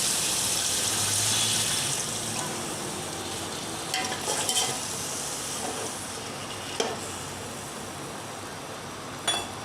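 Biryani meat masala cooking in a pot after a glass of water is added, a steady soft sizzle and bubbling throughout with a few faint clinks and stirring scrapes of a spoon.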